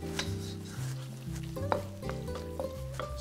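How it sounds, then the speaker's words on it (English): Shrimp and spinach beet leaves frying in a pan, a steady soft sizzle running throughout with occasional stirring scrapes and light utensil clinks, accompanied by background music. "now you can hear that the sizzling has calmed down, because I've put in the shrimp and it's absorbed that heat"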